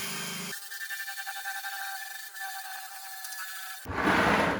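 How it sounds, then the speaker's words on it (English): A wire wheel scrubs powdery residue off a rusty old wheelbarrow, a steady abrasive whirring grind that runs for about three seconds before cutting off into a louder noisy burst. "this time the wire wheel was perfect to clean that out"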